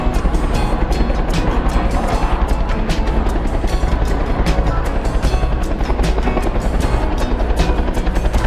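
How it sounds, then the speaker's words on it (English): A helicopter flies close by near a Yosemite wildfire, its loud rotor chop pulsing rapidly and steadily over a dense engine roar the whole time. "there's a helicopter right behind me"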